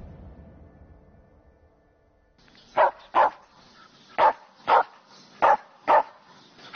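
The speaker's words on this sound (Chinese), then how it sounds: "耳边又响起了一阵狗叫声" A dog barks six times in two pairs-like bursts, moderately close and fairly loud, with quiet background between barks and no talking.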